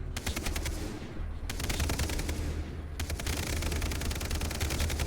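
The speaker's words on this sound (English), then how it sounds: "they've been firing off rounds like crazy" Rapid automatic gunfire bursts from characters shooting into the air in the shooter game Far Cry 3, several sharp volleys separated by brief pauses, with the last burst running continuously to the end.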